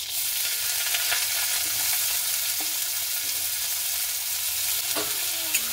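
Chopped onions fry in a little oil in a kadai with a constant close hiss, broken by a few light scraping stirs of the spoon.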